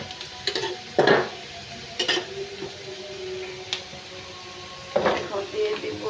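Onion sizzles in hot oil in a pan for dal, a steady low fry broken by a few sharp scrapes and clinks of a stirring spoon against the pot, close and moderately loud.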